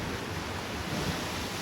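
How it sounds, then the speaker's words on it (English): Rough, angry sea surges onto the shore in a continuous roar of crashing water and spray, close and fairly loud, mixed with wind noise on the microphone. "look at the waves. They're crashing."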